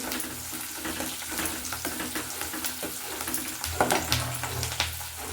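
Spices fry in hot oil for idli sambar, a steady close sizzle with scraping stir sounds and small crackles throughout, no talking.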